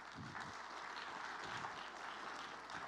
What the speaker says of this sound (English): So please go ahead and give a round of applause to Mr.